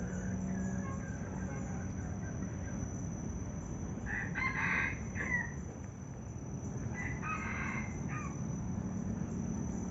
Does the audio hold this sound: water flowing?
no